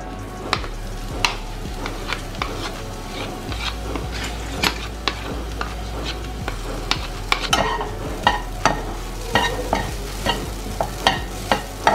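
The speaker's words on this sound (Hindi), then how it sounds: "सिम आंच पे 3 से 4 मिनट तक इसको कंटिन्यू हम पकाते रहेंगे और हाथ ऐसे चलते रहेंगे" Grated coconut cooking in ghee over a low flame, stirred continuously, with repeated scraping and clinking of a spatula against the pan over a soft sizzle, close up and with no talking.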